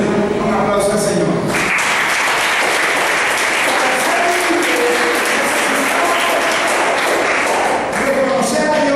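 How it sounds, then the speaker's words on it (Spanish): A church congregation applauds for the Lord, a loud sustained clapping that swells after the first second and holds steady to the end, with voices mixed in. "Denle un aplauso al Señor."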